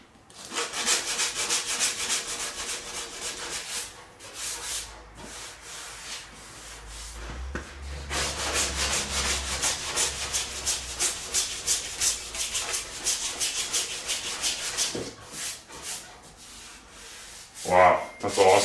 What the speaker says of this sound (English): Getting right down the metal. This is 80 grit.